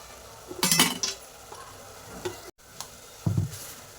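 Puri bhaji masala with turmeric roasting in oil, a spoon stirring and scraping the pan in two short close bursts over a soft background sizzle.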